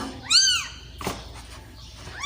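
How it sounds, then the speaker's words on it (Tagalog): Small, high-pitched mews of newborn kittens, one clear cry followed by fainter ones, close by with light rustling in between. "May bagong ipinanganak na naman na kuting na pusa."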